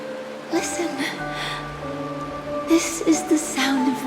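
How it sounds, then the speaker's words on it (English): Steady rain falls in a Honkai Star Rail scene, a soft broadband hiss running throughout beneath sustained musical tones and quiet voices. "This is the sound of rain."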